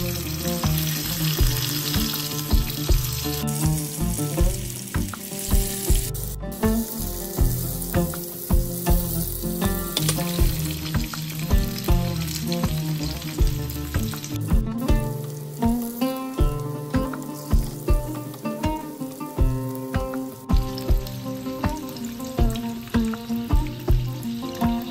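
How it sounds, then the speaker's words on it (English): Prawn spring rolls deep frying in hot oil over a medium-low flame, giving a steady, close crackling sizzle with dense bubbling pops that runs unbroken throughout, with no talking. "Deep fry in hot oil on medium low flame."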